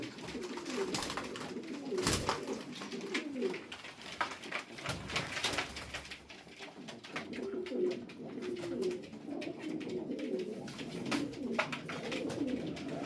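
Pigeons coo continuously in soft, throaty, overlapping calls, close by, with faint rustling and a few light knocks in the background.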